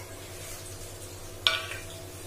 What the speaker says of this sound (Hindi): अब इसमें मैं थोड़े से वेजिटेबल्स को सॉटे करूंगी।